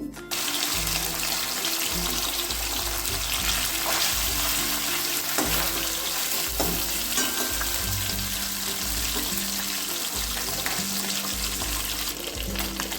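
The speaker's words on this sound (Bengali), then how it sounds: "তেল ভালোভাবে গরম হয়ে এলে মাছগুলো দিয়ে দেবো" Chela fish frying in hot mustard oil in a kadai, a steady, loud broadband sizzle running throughout with no talking.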